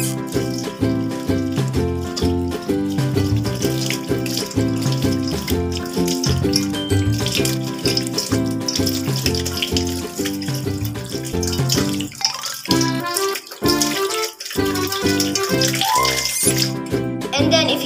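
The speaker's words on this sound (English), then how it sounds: "then rinse your hands" Tap water runs steadily at a sink as hands are rinsed after washing, a continuous splashing stream that lasts the whole stretch against a dense tonal background.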